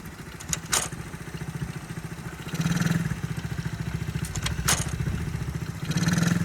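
A motorcycle engine runs steadily with a lumpy idle and surges as the throttle is blipped twice, nearby and fairly loud, with no one speaking.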